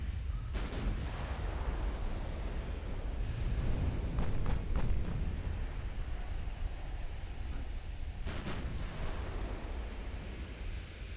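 A warship's ammunition detonation during a naval battle in the game Ultimate Admiral: Dreadnoughts, a heavy booming rumble over continuous roaring sea-and-gunfire noise, with sharp bursts near the start and around the eighth second.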